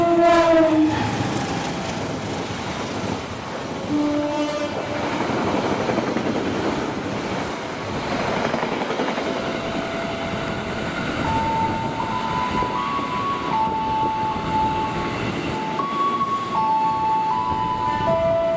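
A Direct Train passenger train passes at high speed, its horn blaring in long tones at the start and again toward the end over a rushing roar of wheels and carriages, loud and near.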